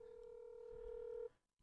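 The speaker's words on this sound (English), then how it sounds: "Can you hear it in the headphones? The phone ringing?" A phone line tone sounds through headphones, one sustained electronic tone that holds for over a second and then cuts off abruptly, with no talk.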